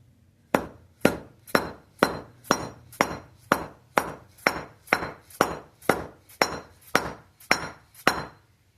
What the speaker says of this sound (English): So I've just got a 4-pound dead blow here.